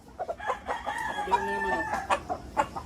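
A rooster crows close by, one full drawn-out call with clucking around it.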